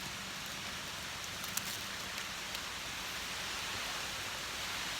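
Rain falls steadily among trees in northeastern Thailand, a close, even patter and hiss with a few sharper drops standing out, and no one speaking.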